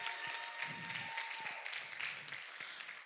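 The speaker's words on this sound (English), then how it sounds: "Can we give a good round of applause to our panel, please?" Applause from a seated audience for a discussion panel: a moderate patter of many hands clapping, continuing for a few seconds with slight swells. There are faint low thumps and a thin tone underneath.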